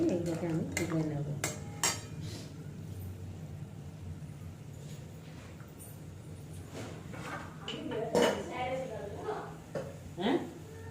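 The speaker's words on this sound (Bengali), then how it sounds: "হাই ফ্লেম দিয়ে করে একটু এদিক ওদিক নাড়িয়ে এগুলোকে আমি তুলে নেব" Cheese snacks are stirred in a pan over a high flame, with clinks and scrapes of a utensil against metal over a faint sizzle, and a voice speaking at times.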